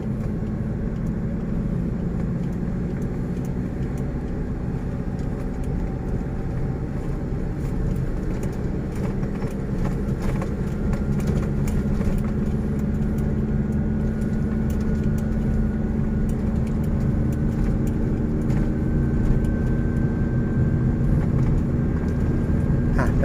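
A manual car being driven during a driving lesson, engine droning steadily as it accelerates gently in second gear, a continuous close low rumble with road noise and no pauses.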